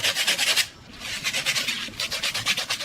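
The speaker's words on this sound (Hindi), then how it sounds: "दोस्तों हमने रेगमाल के जरिए सेल को साफ किया है" Sandpaper rubbing rust off the element of an instant geyser, rapid rhythmic back-and-forth rasping strokes, close and loud, with a brief pause before scrubbing resumes.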